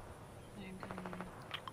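A quick burst of rapid gunfire in the Fortnite video game, roughly six evenly spaced shots, faint and distant beneath the game's background ambience, with short electronic game sounds following.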